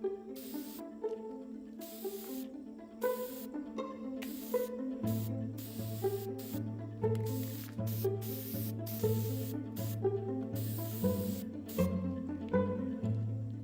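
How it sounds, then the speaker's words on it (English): Repeated bursts of hissing aerosol spray paint, metallic silver, short and steady, come one after another over a low background hum, close to the listener. "Once I was done with all the spray painting"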